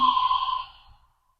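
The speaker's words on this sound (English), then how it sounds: "did you hear that Ujjayi breath, the exhale, that oceanic sound?" A single Ujjayi breath exhale drawn through a constricted throat gives a soft oceanic hiss. It is close and fairly loud, then fades out within about a second.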